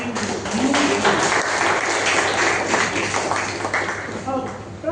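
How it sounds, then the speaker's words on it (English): An audience at a Toastmasters meeting claps in a sustained round of applause indoors, dense and fairly loud, with a voice speaking over it and the clapping thinning toward the end. "I have to appreciate a round of applause for XCOM"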